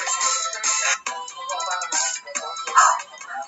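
A phone rings in a room with a loud, repeating electronic ringtone that runs in bursts through the whole stretch.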